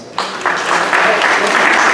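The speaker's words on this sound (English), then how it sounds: "let's give them a round of applause" Audience applause at a university career center orientation session, rising in after a brief quiet start into steady, dense clapping that fills the rest of the stretch.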